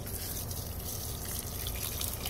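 Water streams steadily out of an 880 GPH water pump through a 50-foot hose, a continuous close splashing and trickling rush with no talk over it.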